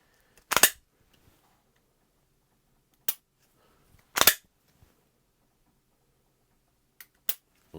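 A Smith & Wesson handgun fired at a shooting range produces several sharp, loud reports, some in quick pairs, separated by gaps of quiet.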